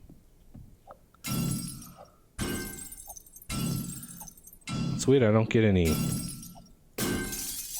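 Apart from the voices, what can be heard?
windows shattering while being broken in the video game 7 Days to Die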